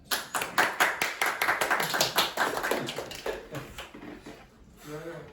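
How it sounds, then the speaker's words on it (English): A classroom of students claps to encourage classmates, with a quick, uneven patter of hands close by that thins out after about four seconds before a voice speaks. "Let's give them a clap to encourage them."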